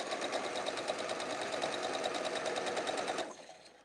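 A sewing machine stitches small 3.5-by-3.5 pinwheel quilt blocks with a quiet, rapid, even run of needle beats. It stops abruptly just before the end.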